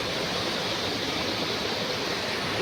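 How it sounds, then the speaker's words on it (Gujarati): Water rushes in a steady, dense, broadband flow outdoors, loud and continuous without a break and with no voices over it. "અહીંથી પાણી આવે છે।"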